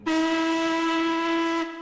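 Steam engine Peter Sam gives one long, loud, steady whistle with a clear pitch that holds for most of its length, then cuts off abruptly.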